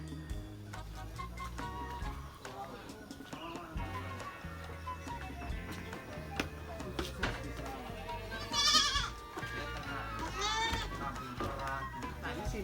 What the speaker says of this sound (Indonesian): ini anakan wedhus, anakan kambing